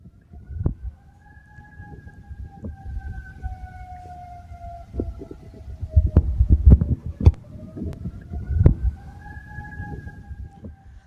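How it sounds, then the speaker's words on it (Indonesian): An air raid siren in Doha wails slowly in long rising and falling tones in the distance during an Iranian missile strike, with low thuds and rumbles scattered beneath it. "Suara sirene meraung di Doha saat rudal Iran menghantam Qatar."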